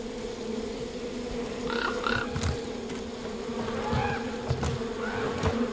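Dense, steady buzzing of many angry bees swarming close around a hive a bear is trying to break open, with intermittent louder passes and faint knocking thuds.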